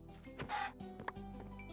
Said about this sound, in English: Why are there chickens in here?